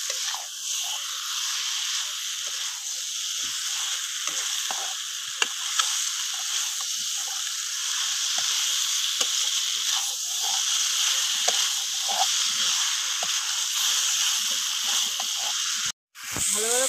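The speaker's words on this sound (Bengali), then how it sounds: "একটু নাড়িয়ে চাড়িয়ে ভালো করে কষে নিয়ে নেবো আমি।" Pointed gourd and prawns stir-fry in a hot pan with oil, a steady loud sizzle and hiss running throughout, broken by the brief scrape and knock of a spatula stirring, close by.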